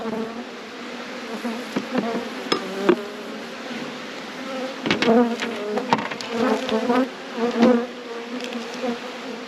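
Honeybees buzz around a hive in October, a continuous droning hum with individual bees passing close by in louder, wavering bursts, plus a few sharp clicks; no one speaks.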